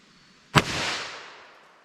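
A single sharp gunshot from a .32 H&R Magnum revolver with a 4.2-inch barrel, loud and close, followed by a short decaying echo, with no talk.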